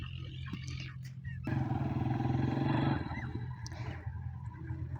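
A motorcycle engine near the Ravi river in a village setting, a rough, steady drone that swells for a couple of seconds and then fades, with outdoor background noise.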